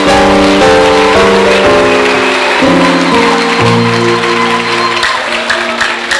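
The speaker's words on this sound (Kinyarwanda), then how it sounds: "Tuyikomere amashyi menshi." An audience at a church sermon claps loudly and continuously, with steady applause filling the whole stretch alongside sustained musical tones underneath.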